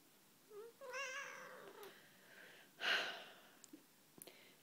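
A cat lets out a drawn-out, wavering meow, followed by a soft breathy huff and a few faint clicks in a quiet room.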